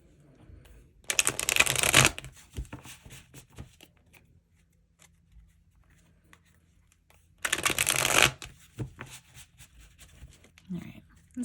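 Tarot cards being shuffled by hand in two vigorous bursts of rapid riffling and slapping, each lasting about a second, separated by quieter handling sounds and a short stretch of near silence.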